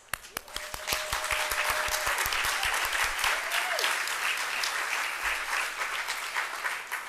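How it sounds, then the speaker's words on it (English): Audience at an animal services community event gives a sustained round of applause, starting with a few scattered claps that swell into steady, loud clapping filling the room. "will the dear, dear, dear District 2 team please stand for applause?"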